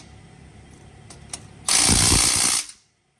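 A ratchet snugs a 16 mm exhaust bolt on a 2022 Subaru BRZ / Toyota GR86 AWE catback, a few faint clicks followed by a loud, close, steady run of rapid ratcheting lasting about a second before stopping.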